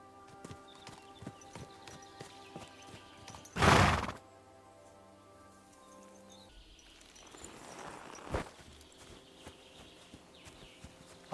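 In the video game Kingdom Come: Deliverance, a horse gives one loud, close whinny, then hooves clop at a walk with scattered steps and a later snort-like burst, no talk over it.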